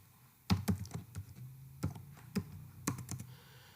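Typing on a computer keyboard during a Python programming lesson, a handful of distinct close key clicks landing in an irregular rhythm, some in quick pairs, over quiet room background.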